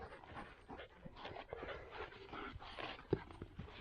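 A puppy pants rapidly and steadily up close after playing, with a soft whimper-like sound near the end.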